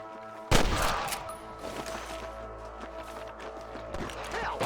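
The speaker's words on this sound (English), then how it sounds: "I can hear more gunshots." Gunfire in the video game Red Dead Redemption: one loud sharp shot followed by scattered fainter shots and reverberating noise under game ambience and music.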